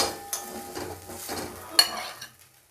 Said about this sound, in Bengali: এইভাবে আমি সব কটা লোটে মাছ ভেজে নেব।